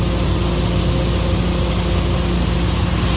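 A tractor engine runs steadily and loudly during the corn harvest, a constant dense rumble with no breaks and no voices.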